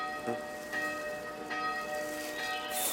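A church bell rings out, its long, shimmering tones repeating several times over a soft hiss like rain in the background.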